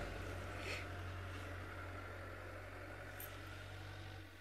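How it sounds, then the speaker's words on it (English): A tractor working on a dirt road in the Mara Conservancy idles with a faint, steady low rumble in the distance, then eases slightly toward the end. "So let's wait for the tractor to just move off a little bit"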